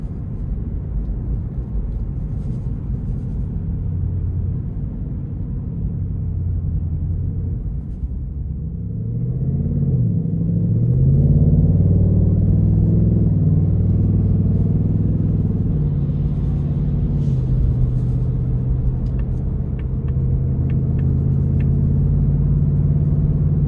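A 2026 Ford Mustang GT Premium V8 in sport mode, heard from inside the car on a city drive: a steady loud rumble that swells into a deeper, louder growl as the engine revs up and holds.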